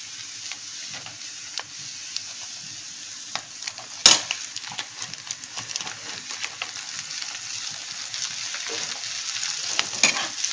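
Steamed sweet corn frying with onions in a hot pan gives a steady, close sizzle and hiss, broken by scattered clicks and scrapes of stirring and one sharp clatter partway through.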